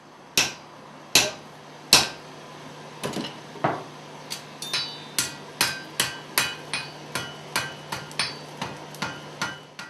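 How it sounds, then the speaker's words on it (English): A blacksmith's hammer strikes hot metal on a steel anvil, a few spaced sharp clangs at first, then a steady run of about fifteen evenly timed ringing blows, close and clear with no talking. "The steel face of the anvil is used to strike hot metal."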